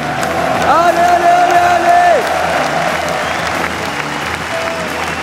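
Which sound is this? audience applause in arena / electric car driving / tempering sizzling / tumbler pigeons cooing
audience applause in arena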